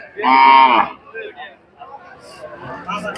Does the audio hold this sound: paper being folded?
no